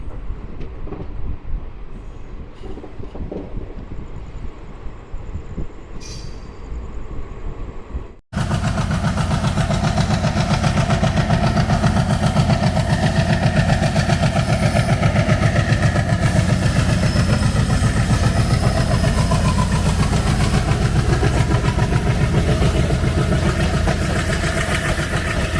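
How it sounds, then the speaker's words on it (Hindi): Gorakhpur-Deoghar Express rolling on the rails through a curve, a steady loud rumble and rattle heard from aboard after a sudden swell, continuous with no pauses. "हमारी ट्रेन यहाँ कर्व लेते हुए निकल गई है शाहपुर पटोरी की तरफ"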